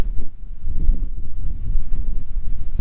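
Strong wind on a Bahamas beach buffets the microphone in continuous low rumbling gusts throughout.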